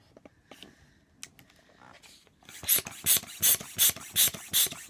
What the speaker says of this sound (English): I'm trying to concentrate on blowing this.